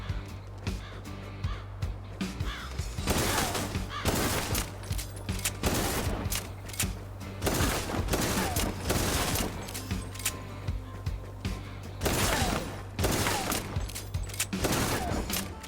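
Repeated shotgun blasts in the video game Kill the Crows, loud bursty shots every second or two over a steady low hum, with dense crackling between them.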